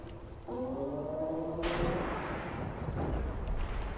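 Missile launch in the tank game Armored Warfare, fired from a BMPT vehicle: a sudden broadband whoosh and blast about one-and-a-half seconds in that rolls into a sustained rumbling roar, over low tonal engine hum.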